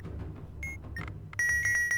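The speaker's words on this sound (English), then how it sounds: "Hopefully that knob beeping hasn't stressed you out either." A few short electronic beeps from a knob module in the video game The Centurion, then a rapid run of repeated beeps over a low rumble, clear and close.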